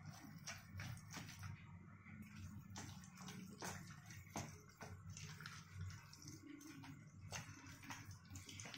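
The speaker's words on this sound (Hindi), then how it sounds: "थोड़ा सा इसमें पानी दे देते हैं।" Water is poured into a semolina batter for instant rava idli, a quiet trickling and splashing that runs steadily, with soft clinks and mixing sounds nearby and no talk.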